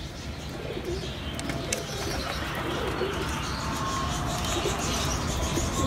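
Pigeons kept in a loft, several birds cooing in low, throaty, repeating calls over a steady rumbling background, with occasional chirps and a brief flutter of wings, moderately close.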